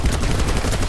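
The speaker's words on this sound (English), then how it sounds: "Point blank this guy with an LMG, sure, why not?" A light machine gun fires in BattleBit Remastered at point-blank range, a loud, rapid burst of rounds fired in even succession throughout the second.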